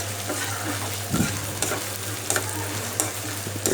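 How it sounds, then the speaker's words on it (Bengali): Chillies and onions frying in a pan at home, a loud continuous sizzle with a low steady hum beneath and occasional scraping stirs of a spatula, no voices. "এই মরিচ পেঁয়াজগুলো ভাজা হচ্ছিল সুন্দর করে"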